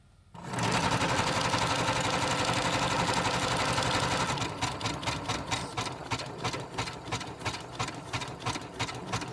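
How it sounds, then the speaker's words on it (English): Close, loud sewing machine running a zigzag stitch, a steady whir that shifts after a few seconds into a rapid, regular pulsing rhythm. "Again, I'm still on a zigzag stitch."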